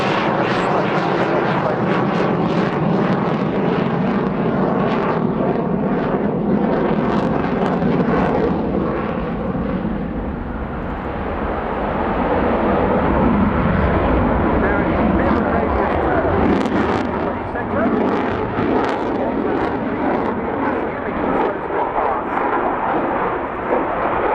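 A Belgian Air Force F-16 fighter jet roars through a display at the RIAT air show, a loud sustained engine thunder that swells and fades as it passes, with an announcer's commentary running beneath.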